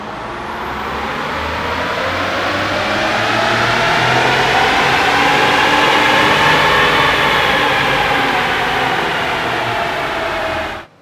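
A tuned Ford EcoBoost F-150 turbocharged engine runs on a dyno in a long, loud, steady pull, its roar building, holding, then cutting off abruptly at the end.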